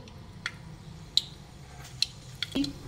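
A handful of small, sharp pops and crackles spaced irregularly over a quiet background, mustard seeds bursting in hot ghee nearby.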